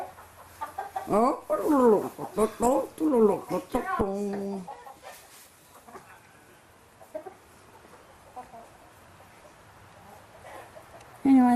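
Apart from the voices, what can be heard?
chickens clucking in a chicken house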